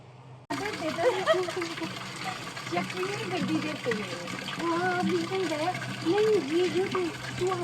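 Water pouring and gushing steadily into a container being filled a second time at a distant water source, a continuous splashing rush that runs under ongoing talk throughout.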